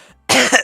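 A single sharp, loud cough bursts out close to the microphone after a brief hush, ending in a short rasp.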